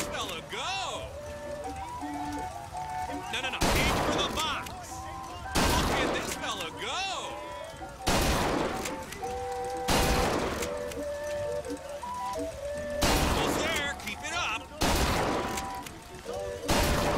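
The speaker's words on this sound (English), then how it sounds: "By shooting the targets" Gunfire at shooting-gallery targets at a fairground in Bioshock Infinite: a string of sharp, loud shots spaced a second or two apart, each ringing briefly, over background music and chimes, with someone talking in between.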